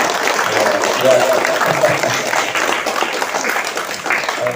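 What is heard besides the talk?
audience applause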